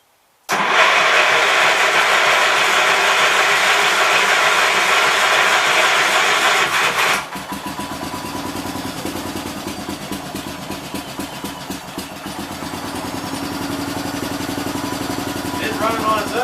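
A 1969 Gravely 430 tractor engine fed by a racing fuel cell cranks and fires abruptly, runs hard and loud for several seconds, then drops into a rougher, pulsing idle that keeps running on its own.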